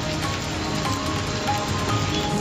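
Heavy rain driven by stormy winds across parts of Chandrapur district, a dense, steady roar of downpour that holds at the same level throughout with no voices.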